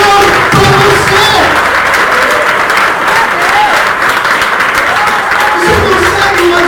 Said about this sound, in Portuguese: Aplaude de novo Ele.